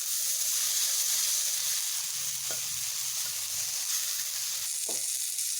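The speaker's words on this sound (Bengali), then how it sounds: "এগুলোকে আমি ডিপ ফ্রাই করে লাল করে ভেজে নেব" Pointed gourd pieces deep frying in hot oil, a loud steady sizzle with a couple of brief scrapes or stirs.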